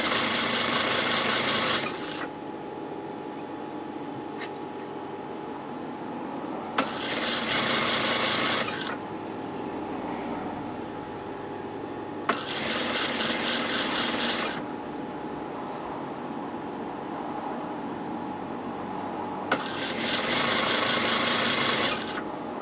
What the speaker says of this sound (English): sew all the way.